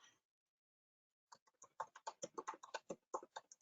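Computer keyboard typing while writing code: a brief tap, a pause, then a rapid run of close, crisp keystrokes in an irregular rhythm, with no talk.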